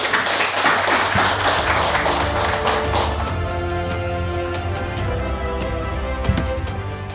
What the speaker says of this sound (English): So can we welcome her with a round of applause?